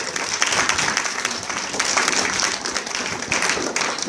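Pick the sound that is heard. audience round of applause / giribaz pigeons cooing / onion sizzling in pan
audience round of applause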